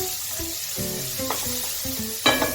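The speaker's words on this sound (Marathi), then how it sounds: "पालक आपल्याला नरम होईपर्यंत फ्राय करून घ्यायचे आहे" Spinach frying in a pan until soft for a dal palak dish, a brief sizzle beneath a melodic music track.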